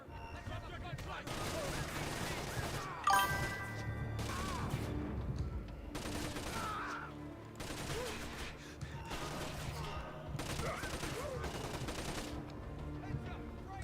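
Sustained gunfire rattles through a video game gunfight, with repeated bursts and rolling volleys of automatic weapons over about fourteen seconds, loud and close, with shouting voices mixed in between the shots.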